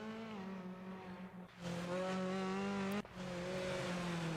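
Race car engine dropping sharply in pitch as the driver brakes very late, then revving back up, with a brief cut near the end; loud and close, no talk.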